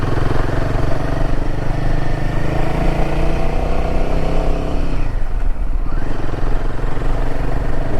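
An old Mahindra jeep engine runs loud and close, with a continuous rough, clattering drone and a brief shift in pitch partway through.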